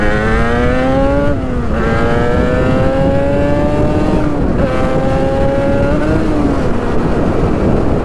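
Yamaha R1-Z motorcycle engine revving at partial throttle, a loud close steady buzz whose pitch rises and falls in smooth sweeps through repeated rev changes.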